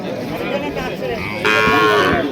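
A dairy cow at a cattle market in Barura, Cumilla, gives a loud, drawn-out moo that swells midway and holds to the end, over a busy crowd murmur.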